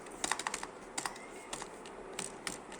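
Fingers tap on a computer keyboard while biodata details are typed in, light quick clusters of clicks in a few short bursts with brief pauses, fairly close and quiet, no talk.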